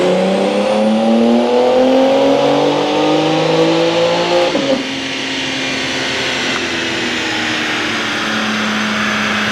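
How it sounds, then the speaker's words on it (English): A BMW G82 M4 Competition revs hard on a dyno, its loud engine note climbing in pitch, dropping abruptly at the shift, then pulling steadily again with no voices over it. "let's get some dyno runs in"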